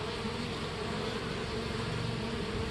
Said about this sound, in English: Swarms are free bees.